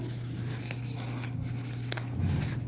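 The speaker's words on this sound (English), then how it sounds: "I'm going to erase some of this for now." An eraser rubs across a classroom board, leaving a dry scrubbing texture broken by a few short scraping strokes over a steady low hum, with no voices.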